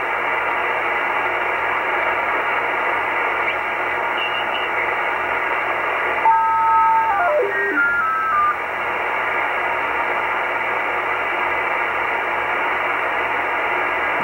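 SELCAL selective calling tones for aircraft on a shortwave aviation frequency near 6.6 MHz: a short sequence of steady paired tones stepping downward in pitch, heard over continuous hissing radio static.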